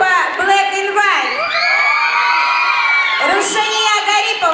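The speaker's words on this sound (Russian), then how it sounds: "ваши аплодисменты" Audience at a televised talent-show qualifying round in a Palace of Culture hall cheering and whooping for acts, a sustained loud crowd roar with shouts rising over it throughout.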